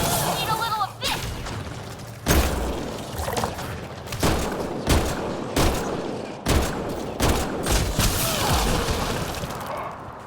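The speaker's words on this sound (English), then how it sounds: "There was gunshots when you were talking" Bursts of gunfire from the video game Mass Effect: Andromeda, several sharp loud volleys spread across the clip over a dense game soundscape, with speech-like sounds mixed in.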